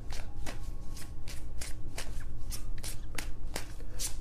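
Tarot deck being shuffled for another draw during a reading, a steady series of crisp riffling card flicks repeating roughly every half second, close and fairly loud with no speech.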